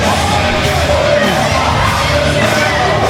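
A wrestling crowd at an ACPW independent event cheers and yells in a steady, dense roar that fills the whole stretch without a break.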